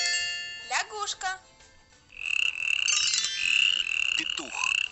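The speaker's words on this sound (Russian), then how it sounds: "Лягушка." A cartoonish frog croaks in an educational puzzle game, a few short bursts, then longer warbling ribbits that ring out close and clear with no talk.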